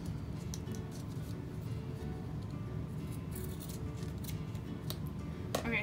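Scissors cut fabric while sewing scrundies, making quiet, scattered snips and small clicks over a low background hum.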